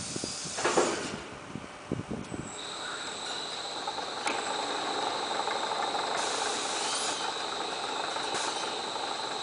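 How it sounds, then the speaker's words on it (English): An Accu-Cut Q-9 pneumatic carpet cutting machine runs with a few clunks and knocks at first. A loud, continuous hiss of air and mechanical noise follows and carries on steadily, close by, with no one speaking. "Here is the Q-9 machine in action."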